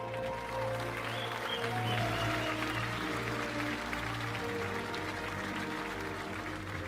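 Faint applause from an audience at a GT World Series Nations Cup trophy presentation in Germany, a soft steady clapping wash under tonal hum and background music.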